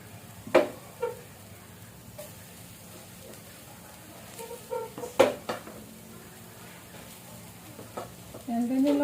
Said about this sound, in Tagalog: Tayo lang natin matunaw yung butter.